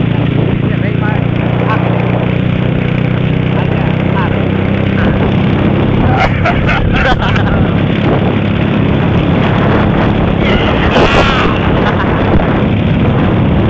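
A motorcycle engine drones loudly and steadily throughout, with rough, rumbling noise and no breaks, as if heard up close while riding.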